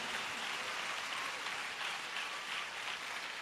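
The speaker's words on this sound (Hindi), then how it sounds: "ताली बजाकर प्रभु का धन्यवाद करो" A church congregation at a Sunday service claps together to thank God, a dense, steady patter of many hands at moderate loudness with no talk over it.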